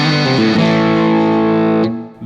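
A Relish electric guitar played through its piezo pickup rings out a sustained chord with a brief change early on, then decays before a final sharp pluck.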